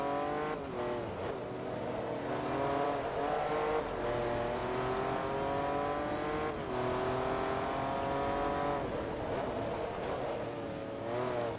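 A Koenigsegg CC-8S race car engine drones steadily in Forza Motorsport 2, a loud sustained whine that rises and dips through gear changes over about eleven seconds with no talking.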